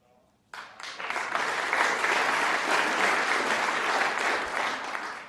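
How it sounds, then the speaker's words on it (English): Snooker spectators break into applause, a sudden dense burst of clapping that swells and holds steady for several seconds before beginning to fade. "Yeah, nice round of applause."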